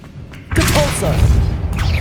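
A Depulso spell blast in Hogwarts Legacy, a loud whooshing boom that bursts in after a quiet moment and rings out for over a second, with a voice shouting over it.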